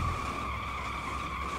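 A Peugeot racing in Need for Speed skids hard, a sustained tire squeal ringing over the engine's roar for the whole short burst, loud and close with no break.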